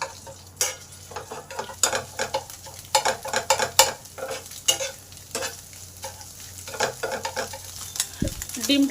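Three eggs frying and being stirred into a scramble in a lightly oiled pan for a breakfast dish, soft sizzling with repeated scraping and clinking of the spatula throughout.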